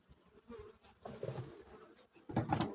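Honeybee colony buzzing inside an open hive, a soft, steady droning hum at moderate distance that swells louder toward the end.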